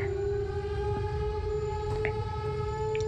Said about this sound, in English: All the sirens are going off,